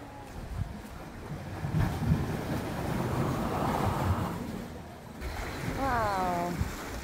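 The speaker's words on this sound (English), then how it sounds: "Oh, the tide is coming in." Waves wash in on a beach shore on Camotes Island, Philippines, as the tide comes in, with a steady rushing surf and wind buffeting the microphone; a voice briefly speaks near the end.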